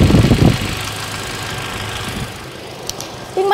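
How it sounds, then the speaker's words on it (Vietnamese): A 2017 Toyota Innova E idles with a low, steady engine hum, briefly louder at the start and fading to a quiet, even drone with a few small clicks near the end. "cho các anh chị nghe tiếng máy luôn"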